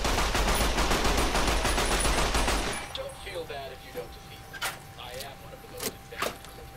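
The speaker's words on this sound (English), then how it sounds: "It's like a sniper rifle." In Fallout: New Vegas, a dense burst of loud rifle fire fills the first few seconds and then breaks off abruptly. A few scattered sharp shots and clicks follow as a player talks.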